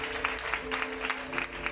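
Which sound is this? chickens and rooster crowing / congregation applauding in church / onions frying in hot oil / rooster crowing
congregation applauding in church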